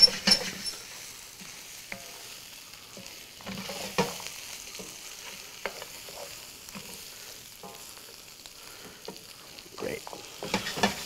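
Paella ingredients, including rice, sizzling gently in a hot pan while being stirred, giving a quiet, steady hiss broken up by soft scrapes and taps of a spoon against the pan.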